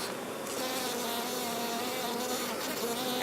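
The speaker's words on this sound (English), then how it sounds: "I have this bee that I think is attacking the camera" A honey bee buzzes close to the camera during a springtime hive inspection, a steady, loud droning hum that wavers slightly in pitch as it hovers near the lens, with no talking.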